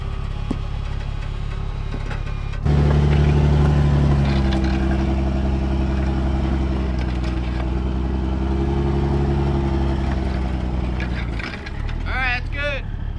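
An off-road rig's engine kicks in and runs steadily as the vehicle pulls forward during a trail recovery, a loud, close, droning rumble that dips briefly near the end, with a voice talking over it.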